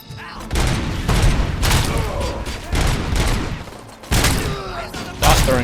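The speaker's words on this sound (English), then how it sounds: "Stop throwing grenades." Gunfire and explosions from a RoboCop: Rogue City shootout come in loud, punchy blasts and bursts of rapid fire at close range, several distinct heavy hits spread across a few seconds.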